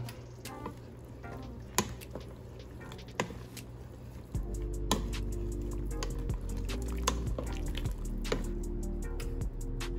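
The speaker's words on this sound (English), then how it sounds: "we're gonna add a whole bunch of okra. I like okra, so I'm gonna add all of that in there. And let's mix it up." A sinigang with pork spare ribs, green beans and okra is stirred in a pot, giving wet squishing and scattered clinks and drips, steady and close, with a low hum rising partway through.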